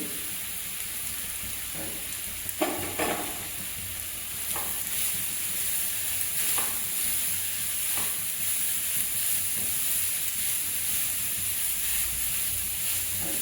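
About a kilogram of grated carrots for gajar halwa sizzle steadily in a hot pan, giving a continuous frying hiss with occasional light scrapes and stirring clinks.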